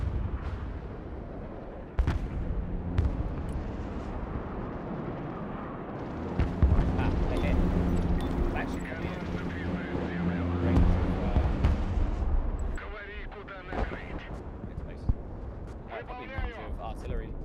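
Artillery fire in the war game Broken Arrow: deep booming blasts and rumbling impacts repeat through a dense battlefield din, with voices talking over the fighting.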